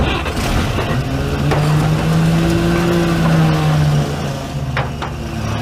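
Old car engine started with starting fluid, running loud and close with a rough steady drone and a rising then falling tone, with no talk over it.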